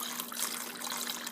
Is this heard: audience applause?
no